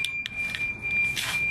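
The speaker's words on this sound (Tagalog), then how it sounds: "Ito pala ang susi may alarm." A key fob alarm gives off a thin, steady high beep tone, broken by a few short, brighter bleeps. It sounds close and moderately loud, with no talking.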